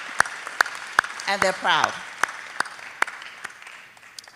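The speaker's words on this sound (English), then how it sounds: "give your parents a round of applause, please" Scattered, sparse claps from a graduation audience honoring the parents of the class of 2024, with a voice speaking briefly over the middle of the clapping.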